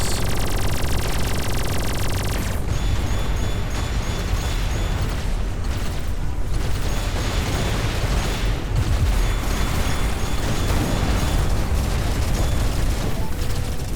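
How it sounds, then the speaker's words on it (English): Quad missiles blast in a dense, roaring barrage of explosions during Everspace 2 space combat, loud and continuous with crackling bursts layered throughout, no voices. "Ooh, quad missiles."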